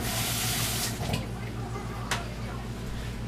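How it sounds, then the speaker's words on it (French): A kitchen knife being rinsed under a running tap produces a constant close splash of flowing water, with brief clinks and splashes as the blade moves through the stream. "On va en profiter pour rincer notre couteau."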